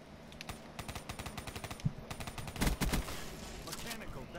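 Rapid automatic gunfire from the first-person shooter Call of Duty: Black Ops III, bursts of quick cracking shots in a steady rhythm, close and loud, with a heavier cluster of shots near the end.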